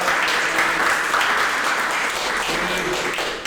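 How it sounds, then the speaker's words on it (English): A group at a karate dojo training session gives a short, dense round of applause that stays loud and steady for several seconds, then tapers off at the end. "Big round of applause."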